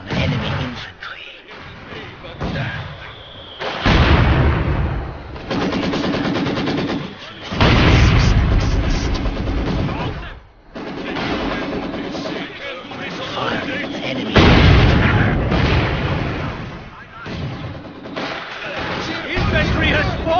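Dense World War II battle gunfire from Company of Heroes 2, with rapid machine-gun bursts and heavy booming impacts arriving in loud waves, running nearly continuously under radio-style unit voice callouts.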